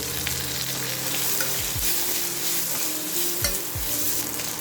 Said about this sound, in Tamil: கருவேப்பிலை, வரமிளகாய், சின்ன வெங்காயம், மல்லி, பெருங்காயத்தூள் போட்டு வதக்கிட்டு